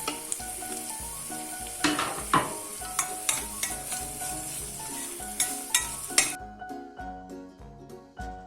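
Garlic and onion with tomato paste sizzle and fry in a pan, with repeated scraping stirs and light clinks of a utensil against the pan.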